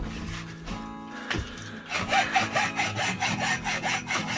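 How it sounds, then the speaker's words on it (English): A hand saw cuts wood by hand while leveling a bedroom floor, starting with scattered scraping and then settling into a steady rhythm of close, rasping back-and-forth strokes. "My turn to do some sawing."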